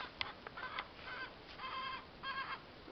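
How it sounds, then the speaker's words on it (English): Chicken clucking on a farm near horses: a series of short, faint clucks and squawky calls in uneven bursts, some tonal and drawn out, heard alone at moderate distance. "Chicken's right there."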